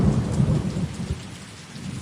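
A heavy thunderstorm in a dramatised scene, with steady loud rain and deep rolling thunder rumbling throughout, no voices.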